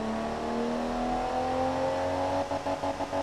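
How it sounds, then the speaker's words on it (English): A straight-six car engine in the game Automation revs hard and climbs steadily in pitch, then stutters rapidly against the rev limiter near the end, loud and up close. "I really like the way straight sixes sound."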